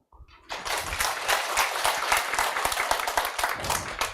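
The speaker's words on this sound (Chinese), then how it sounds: "鼓掌" An audience at a health talk bursts into applause, a dense, sustained wash of many hands clapping that starts abruptly after a brief voice and carries on to the end.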